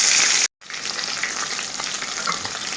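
Chicken pieces deep-frying in hot oil for chicken mandi give off a loud, steady, close sizzle that runs continuously after a brief cut of silence near the start.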